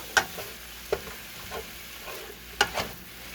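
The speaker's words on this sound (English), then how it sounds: "cook this until it is no longer pink, and breaking up the ground beef as we go along" Ground beef with oregano frying in a pan and being broken up with a utensil, a steady quiet sizzle under sharp scraping stirs at irregular intervals.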